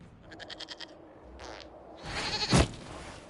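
Goat bleating in the Dragon Age: Inquisition video game, a run of short wavering bleats followed by a louder, longer bleat that swells and ends in a sharp burst.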